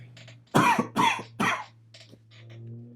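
Three sharp coughs in quick succession, close and loud, followed by a faint throat sound and a steady low hum underneath.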